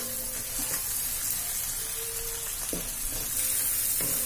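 Tomato, carrot and onion with spices fry in a pan for a macaroni dish, a faint, continuous sizzle with a few soft clinks and scrapes, no talking.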